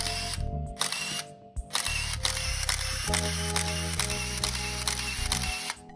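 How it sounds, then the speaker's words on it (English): A Contax 137MD SLR camera's built-in motor drive whirs and ratchets loudly and up close, with several winding bursts after shutter clicks. "It's one of the first SLRs to have a motor drive in it, and it is very loud"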